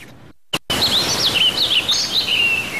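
Songbirds in a Connecticut sanctuary in spring chirp and twitter in quick, high, warbling phrases over a steady outdoor hiss, after a brief click at the start.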